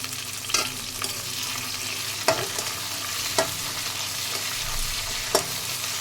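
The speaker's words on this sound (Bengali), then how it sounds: "পেঁয়াজটা ভালো করে ভাজা হয়ে গেছে।" Onions with curry leaves fry in a pan for idli sambar, a steady sizzle broken by several sharp scraping stirs of a spoon, close and without speech.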